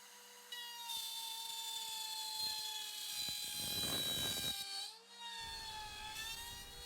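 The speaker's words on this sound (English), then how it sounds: "I have a 1/4 inch bit chucked up in the router." A router fitted with a 1/4 inch bit cuts slots in wood for parts-bin shelves, a steady high motor whine with a rougher burst of cutting noise midway and a brief drop in pitch as it bogs down.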